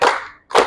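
A group of children claps in unison during a school sports session, giving two sharp, close claps separated by a brief pause.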